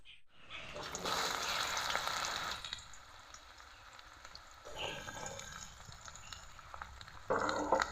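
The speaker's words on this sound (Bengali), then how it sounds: "এগুলোকে এখন ভেজে নেব।" Thick round slices of bitter gourd fry in a pan, bursts of sizzling that swell and fade, with quieter stretches and a sharp louder sizzle near the end.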